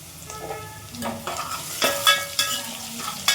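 Onion, curry leaves and mustard seeds frying in hot oil for a Kannada-style fish curry, a close sizzle broken by a few scraping stirs and light pan knocks.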